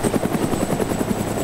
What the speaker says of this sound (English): Oh god, look at the helicopter!